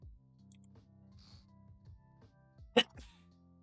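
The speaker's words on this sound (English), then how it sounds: "After I sneezed." A single sharp sneeze bursts out close by near the end, after some quiet shuffling and low handling noise in a workshop where someone is working on a modular engine.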